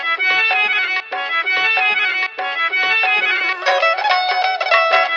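A sampled harmonium and mandolin phrase from a track plays in a bright, choppy rhythmic pattern with short repeated bursts, a higher melodic line entering near the end, no talking.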